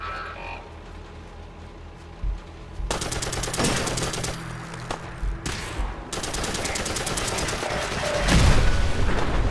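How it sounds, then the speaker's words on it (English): Sustained automatic gunfire from a sentry bot or turret in Fallout 4, rapid bursts ripping loud and dense through most of the stretch, starting after a quieter opening of ambient game noise. "I hear like a sentry turret, or a sentry bot."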